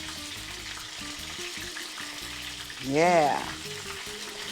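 Green chiles cook in a pan over low heat with a steady, soft sizzle throughout, and a voice briefly speaks near the end over the frying.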